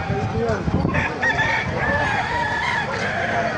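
Chickens and roosters fill a busy poultry market at the Bocaue tyangge, their dense crowing and clucking layered with crowd chatter and nearby voices.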